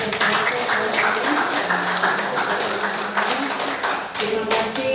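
An audience at a school principal performance-assessment event claps steadily, a dense spread of many hands beating together throughout, moderately loud and continuous with a few voices mixed in.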